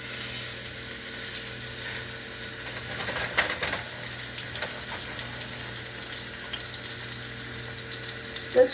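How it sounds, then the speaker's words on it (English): New York strip steaks sizzle in hot grease in a pan, giving a steady, moderate hiss with a few faint clinks and bumps. "We're going to add our steaks to our hot grease and fry until well done."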